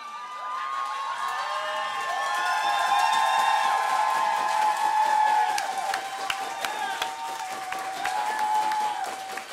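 A studio audience at a geeks-versus-nerds debate show claps loudly and steadily for about nine seconds, with whoops and shrill whistles riding over the dense applause.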